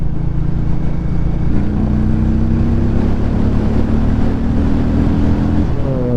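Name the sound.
motorcycle exhaust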